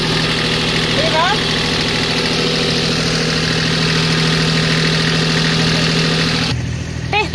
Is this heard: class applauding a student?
no